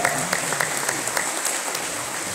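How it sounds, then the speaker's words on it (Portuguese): Applause at a legislative medal-of-honour ceremony, a continuous wash of clapping from a large audience filling the room, fairly loud and unbroken. "Patrícia Leles é uma salva de palmas."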